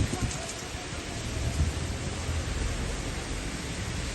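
Steady heavy rain roars throughout, a dense wash of noise with low rumbling gusts underneath, like a storm close by.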